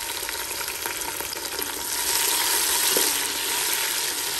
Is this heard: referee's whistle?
no